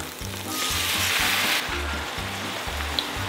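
Vegetable broth poured into a hot pan to deglaze it sizzles in a sharp hiss that swells and then fades, close up, over faint kitchen clatter.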